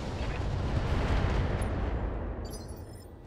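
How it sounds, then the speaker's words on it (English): Weapons fire on a target in the Battletech mech combat game, a dense, loud rumbling barrage of blasts that roars continuously before easing slightly near the end, with no talk over it. "Firing on target."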